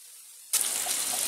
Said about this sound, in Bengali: তেল গরম হয়ে গেলে মাছগুলো একে একে ছেড়ে দিন তেলের মধ্যে।